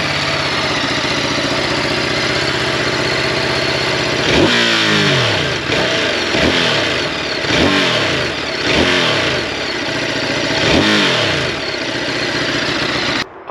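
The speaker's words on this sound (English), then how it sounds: "Sound testing of the Multistrada V2s for 2023." A 2023 Ducati Multistrada V2S motorcycle engine idles loudly close by, then is blipped through a series of sharp throttle revs that rise and fall back to idle, roughly every second or so.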